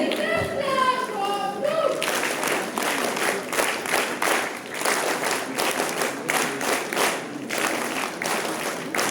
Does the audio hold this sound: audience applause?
yes